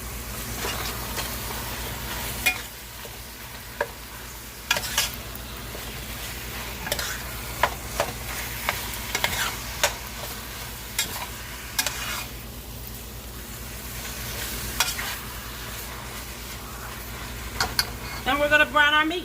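Ground beef and onions sizzle steadily in a pan for taco filling, with a constant frying hiss broken by repeated scrapes and clinks of a spoon stirring, close and fairly loud throughout.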